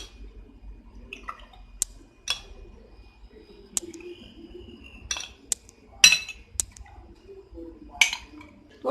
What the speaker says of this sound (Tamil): அதனால நிறைய ஐஸ் கியூப்ஸ் போட்டுக்கலாம்.